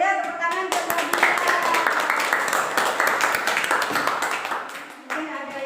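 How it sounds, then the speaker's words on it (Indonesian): Classroom applause for a student named Nabila: a burst of many small hands clapping in dense, fast rhythm, loud and close, fading slightly near the end with a brief voice at the start and finish. "tepuk tangan buat Nabila"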